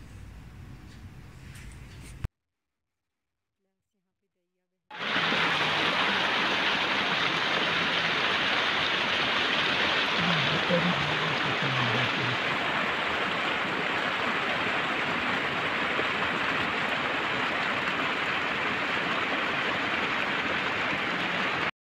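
Heavy rain roars in a steady, dense hiss after a brief silence, heard from inside a tent while camping at Deosai, continuous and close, with no voices.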